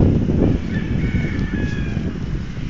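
Chickens cluck and a rooster crows outdoors on a farm over a steady low rumble of wind or motion noise, the calls moderately loud and continuous.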